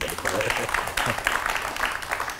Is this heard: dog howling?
no